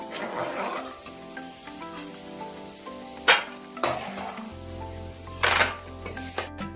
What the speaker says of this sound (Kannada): ಇವಾಗ ಸ್ವಲ್ಪ ಕೆಂಪಾಗೋವರೆಗೂ ಹುರ್ಕೊಂತಿದ್ದೀನಿ